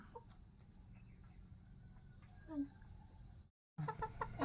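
Chickens cluck softly and intermittently while being fed rice and water, faint close calls over a low background hum, with a brief cut and then louder clucking near the end.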